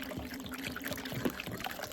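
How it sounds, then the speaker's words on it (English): Water trickles and pours steadily while sweet potatoes are washed outdoors at an off-grid home in Portland, Jamaica, a continuous close splashing with small irregular bursts. "Wash them off with some water and get them grated guys"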